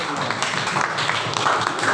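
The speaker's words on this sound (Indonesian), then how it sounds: "berikan tepuk tangan yang meriah untuk jawaban dari pasangan nomor urut" A school student council debate crowd claps steadily for a candidate pair's answer, with dense, continuous applause mixed with murmuring voices.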